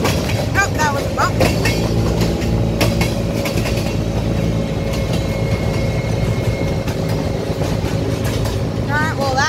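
A freight train rolls past close by with rhythmic clickety-clack, rumbling wagons and occasional squealing wheels, continuous and loud throughout.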